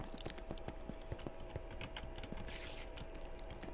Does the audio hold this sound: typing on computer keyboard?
yes